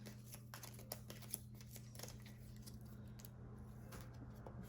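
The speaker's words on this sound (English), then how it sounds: "I'm gonna shuffle these 3 cards." A small stack of three playing cards is shuffled during a solo board game session, soft close riffling and card-slide sounds over a steady low hum in a quiet room.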